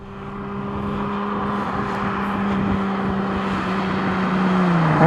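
An Alfa Romeo 75 engine, a little rattly and loose, drones steadily from inside the car as it drives, its pitch climbing gradually under acceleration and growing slightly louder toward the end.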